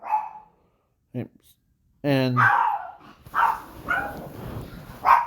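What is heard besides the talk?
dogs barking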